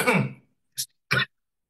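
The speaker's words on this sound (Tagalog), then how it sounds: "may inuubo kasi tayo ngayon" A brief stretch of speech, then two short, sharp coughs, close and clear, with silence between them.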